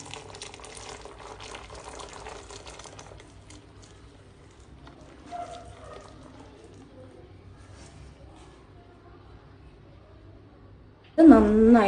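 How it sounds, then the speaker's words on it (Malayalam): Jaggery syrup is poured into a pan of reduced payasam, a faint liquid trickle in the first few seconds that fades into quiet room sound before a voice cuts in loudly at the very end. "നമ്മൾ ആ ശർക്കര വെള്ളപ്പാവ് ഇതിലേക്ക് ഒഴിക്കുകയാണ്."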